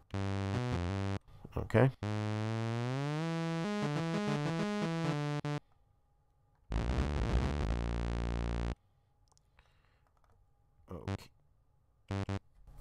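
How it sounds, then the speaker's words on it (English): Trooper synthesizer notes play a buzzy sawtooth tone in several bursts: stepped and gliding pitches broken by silent gaps, plus a few short clicks and a brief spoken word. "Let's put this to a sawtooth."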